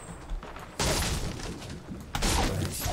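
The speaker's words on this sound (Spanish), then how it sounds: "Ahí hay un disparo cerca." Loud, close gunshots in Fortnite, two sharp bursts with heavy rumbling tails, the first about a second in and the second near the end.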